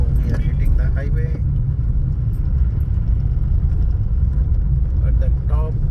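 A car cruising on a highway on an early-morning road trip from Mumbai, a steady low engine and road rumble running throughout, with brief voices and some light rattling near the start and end.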